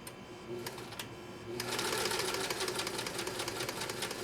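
A Kenmore sewing machine runs a 3-point zigzag stitch through cowhide leather, starting with a few short halting bursts before settling into a loud, fast, continuous mechanical whir at close range.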